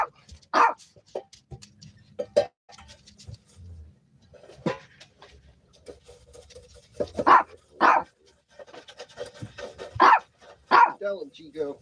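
Dogs bark in short sharp bursts at intervals, indoors close by, mixed with people talking over and between the barks.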